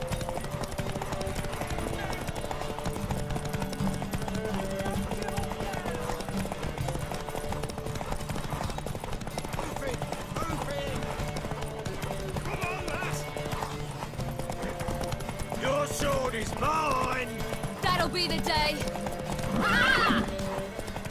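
Rhythmic clip-clop of horse hooves runs throughout, with several loud neighs and whinnies near the end, over background music and occasional voices, in The Witcher 3: Wild Hunt.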